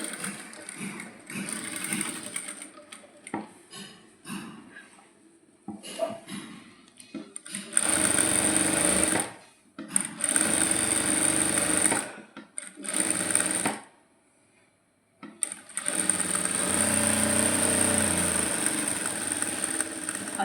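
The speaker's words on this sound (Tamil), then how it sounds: "தையல் போட போகிறோம்." A sewing machine stitching sleeves onto a maxi dress runs in several steady whirring bursts of a few seconds each, close and loud, separated by brief pauses.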